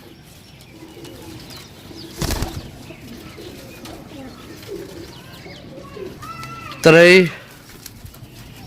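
Pigeons from a single home loft cooing nearby, with a brief burst of wing flapping, while a man counts aloud.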